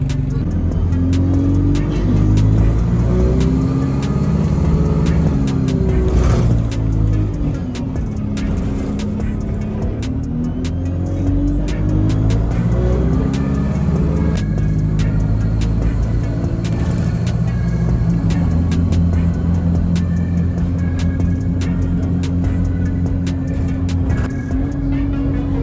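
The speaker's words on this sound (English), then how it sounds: "Alright, we just hopped on the bus." Riding a bus in England on a day trip toward Bodiam Castle and Hastings, with a steady engine drone and road rumble that rise and fall as it accelerates, plus rattles and ticks throughout, no talk.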